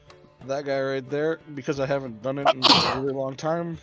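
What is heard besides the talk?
sneeze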